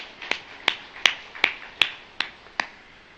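A congregation in a church service claps in a slow, steady rhythm, about seven sharp, evenly spaced claps over a few seconds, with no talking.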